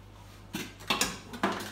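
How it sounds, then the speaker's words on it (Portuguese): Dry lentils being put into a large cooking pot in a home kitchen, a few quick clattering and rattling hits in uneven bursts, close and moderately soft, with no talk. "agora eu vou botar a minha, a minha lentilha para cozinhar"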